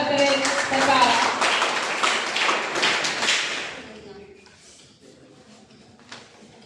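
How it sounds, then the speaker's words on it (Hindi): An audience claps loudly to welcome a guest, Principal Sanjeev Kumar of BNMV College in Madhepura, Bihar, at a college speech competition. The dense, close applause lasts about four seconds, then fades into quieter room sound and voices. "एक बार पूरा जोरदार ताली से स्वागत करें सरकार।"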